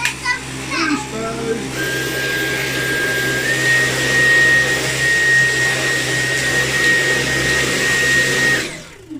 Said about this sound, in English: Got it in the end with boost mode. It's just too heavy for the suction to pick off, and the brush roll just rolls it around and spits it out.